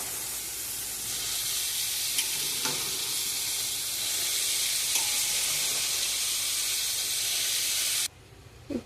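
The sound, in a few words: stirring cut vegetables frying in oil in a pan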